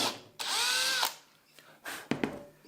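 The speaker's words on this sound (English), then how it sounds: "If you're lucky enough to have a set of countersinking bits such as this one," A power drill fitted with a countersinking bit bores into wood, a whining motor burst followed by shorter spins and tool clunks, close and fairly loud, with no speech.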